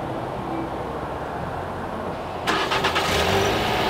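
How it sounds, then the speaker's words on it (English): A 2021 Nissan Sentra SV engine, started by remote start, turns over and catches after a quiet stretch, the start arriving abruptly mid-clip and settling into a low idle, heard from close by. "the engine is on now"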